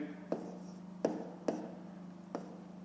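Pen strokes writing a fraction by hand in a math lesson, four short scratchy bursts spaced irregularly, close and fairly quiet over a steady low hum.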